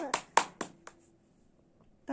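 A few sharp hand claps at home for a small boy named Taha after he finishes his meal, four or five quick claps close by, followed by an adult's voice.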